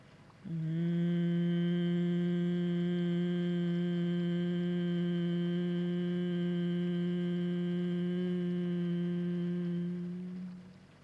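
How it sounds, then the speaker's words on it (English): Sustained closed-mouth vocal hum on one long exhale in a yin yoga practice, even in pitch and volume for roughly ten seconds before tapering off, with no speech around it. "keeping your mouth closed, begin to make a loud humming sound with your voice"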